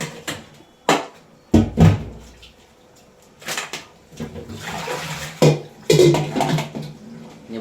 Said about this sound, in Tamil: நல்ல தண்ணியில் 4 தடவை 5 தடவை நல்லா கழுவுங்க